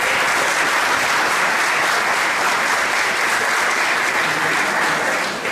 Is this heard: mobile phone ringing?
no